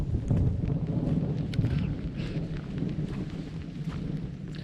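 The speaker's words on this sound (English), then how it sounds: "It's thunder." Thunder rumbles far off in Syria near the ancient site of Apamea, a low, faint, steady roll with a windy, rainy wash and no talk.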